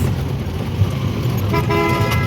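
Street traffic with buses rumbles steadily in Pakistan as a vehicle horn honks partway through, loud and close amid the continuous road noise, with no voices.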